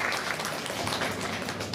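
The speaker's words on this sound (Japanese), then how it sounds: "みんな拍手しようぜ" Audience applause at the Turtle Talk show at Tokyo DisneySea, a brief dense burst of clapping from a seated crowd, fairly close and even.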